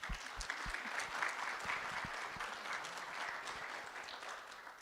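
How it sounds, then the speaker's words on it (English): Steady crowd applause at a guide dog graduation honoring the instructors, a dense continuous patter of many hands clapping at even loudness throughout, with a few sharper individual claps standing out near the front. "So we'll give them a round of applause."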